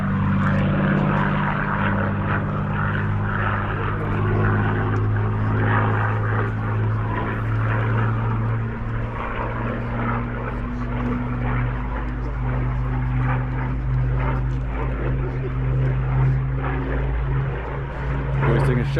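A propeller aircraft at an MG centenary event at Gaydon drones loudly and steadily as it flies past and banks into a sharp turn, its engine note shifting slightly, with no talk over it.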